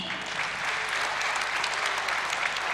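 Sustained applause from a theatre audience at an Armenian ashugh ensemble concert, with steady dense clapping that holds at a constant level and no voices heard above it.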